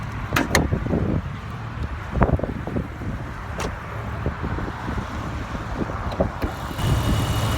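A 1998 Jeep Grand Cherokee 4.0 engine idles steadily, heard close under the open hood, with wind buffeting the microphone and faint traffic noise in the background.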